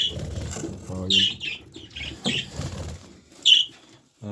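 A few bursts of wing flapping and fluttering close by in a coop, with soft bird chirps scattered between them and brief quiet gaps.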